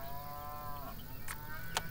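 Cattle moo in the Farm Manager 2018 farm game, a low drawn-out bovine call at moderate distance with a couple of short sharp clicks after it, no talking.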